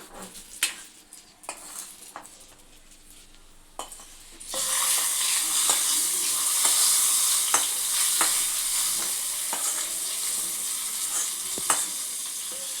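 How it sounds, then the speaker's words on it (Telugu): A few light utensil clinks give way to a sudden loud, sustained sizzle as hot tempering in oil is poured into Telangana-style pachi pulusu, with occasional clicks over the hiss. "ఇప్పుడు ఇది పోపు రెడీ అయిందండి ఇందులో పోసుకుందాము"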